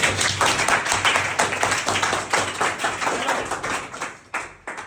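Students at a Bihar board class 12 farewell clapping for themselves, a loud, fairly rhythmic burst of group hand claps that thins out and fades toward the end.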